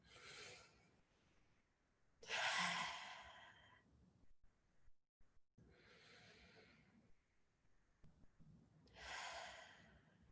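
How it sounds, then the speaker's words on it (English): Slow deep breaths taken during a guided calming exercise, several long airy inhales and exhales with breathy sighs, close and soft, with no talking over them. "let's go ahead and take 3 deep breaths together"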